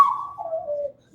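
A person whistles a bird call: one close, clear whistled tone that glides slowly downward and holds for about a second, imitating a bird, with a brief lower note at the end.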